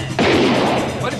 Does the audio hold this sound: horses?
no